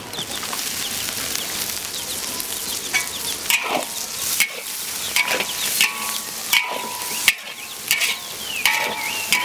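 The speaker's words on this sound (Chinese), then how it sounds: "要越炒越久越香" Pig lung stir-fried in a wok, sizzling steadily throughout with repeated scraping strokes of the spatula and occasional clanks against the metal, close and fairly loud, no voices.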